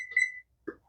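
A kitchen timer alarm going off after tea steeps, giving a short bright electronic beep followed by a softer second chirp, close and alone in silence.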